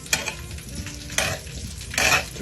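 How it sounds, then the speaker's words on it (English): Seasoned pork chops, asparagus or sweet potato pieces tossed in a bowl with garlic, giving a few soft rustling, clattering bursts of food against the bowl, close and fairly loud with quieter shuffling between. "Now you go ahead and toss it around."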